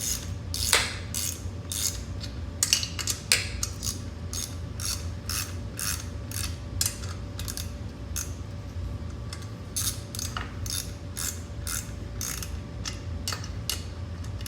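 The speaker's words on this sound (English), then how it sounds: "now we're going to take our 13mm. Make sure that's going the right way. We're going to torque this in an X pattern" Ratchet wrench snugging 13mm cylinder head bolts in an X pattern on an 80cc gas bike engine, giving rapid bursts of close, crisp ratcheting clicks, repeated in short runs with brief pauses over a steady low background hum.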